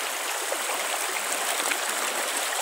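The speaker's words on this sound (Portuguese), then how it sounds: "Muita água aqui no Riacho Caioca, esse riacho que desce aqui" Riacho Caioca creek running full after June rains, a dense, steady rushing hiss of flowing water heard close and continuous with no voices.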